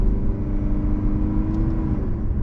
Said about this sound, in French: effectivement le moteur fait un petit peu de bruit, mais regardez, par exemple j'accélère un peu, je relâche un poil